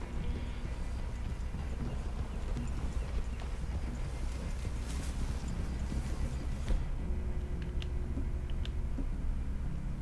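Horse hooves clip-clop steadily at a walking pace on soft ground in a forest clearing in the video game Red Dead Redemption 2, moderately close, with a low ambient rumble underneath.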